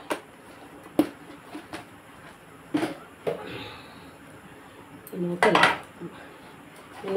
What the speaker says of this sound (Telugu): ఒకేలాగా మనం వేపుకోవాలన్నమాట. కలర్ మారేదాకా వేపుకోవాలన్నమాట.